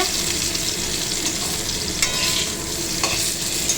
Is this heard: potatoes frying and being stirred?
yes